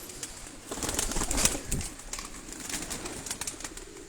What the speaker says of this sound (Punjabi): ਲੱਖੇ ਕਬੂਤਰ ਨੇ ਜੀ